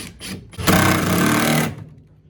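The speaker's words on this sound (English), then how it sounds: "I'm going to use these and screw this in" A power drill drives a screw in a sustained whirring burst of about a second, preceded by a few short taps and followed by quiet, during a Mitsubishi Express short-wheelbase van build.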